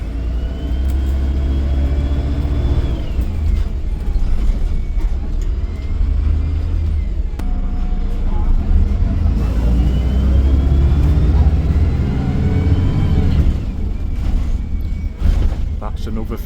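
A MAN-engined Enviro300 bus pulls away and accelerates, heard from onboard as the engine climbs through a gear change into second, loud and steady, with someone talking over it.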